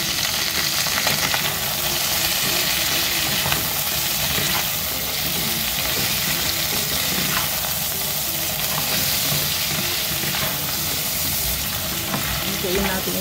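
Crabs frying in a pan for ginataang crabs give a loud, continuous sizzle with a crackling hiss and occasional stirring scrapes. It runs steadily throughout with no voices.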